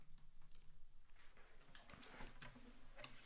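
A computer keyboard tapped in quick, faint clusters of keystrokes while a comment is typed, close but quiet, with no talk.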